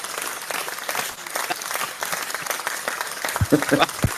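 Scattered applause from a small group in a podcast studio, a few brief claps with chatter and voices running underneath throughout, a slightly louder cluster of claps near the end.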